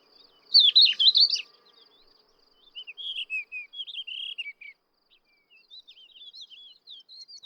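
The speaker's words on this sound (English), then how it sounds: "The birdsong of subalpine warblers and thekla larks can be heard all around." Subalpine warblers and Thekla larks sing in bright, twittering bursts, three separate phrases of quick chirps and trills in an otherwise quiet outdoor setting.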